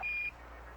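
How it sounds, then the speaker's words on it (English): An Apollo 11 lunar module program alarm sounds during the descent toward the lunar landing: one short, steady electronic beep at the start, then faint background hiss. "Program alarm."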